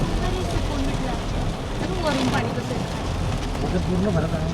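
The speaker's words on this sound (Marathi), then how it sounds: "हे बघा मित्रांनो, कसला पाऊस चालू आहे" Heavy monsoon rain in Lonavala pours as a continuous broadband hiss over a wet surface, loud and unbroken, with someone speaking over it.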